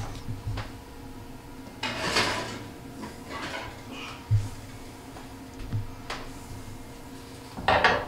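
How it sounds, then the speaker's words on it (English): Clanks, scrapes and knocks of a baked pretzel crust pan being pulled from an oven, a few sharp metallic hits scattered among softer rubbing and handling noises, close by and moderately loud. "I'm gonna get them out of the oven real quick"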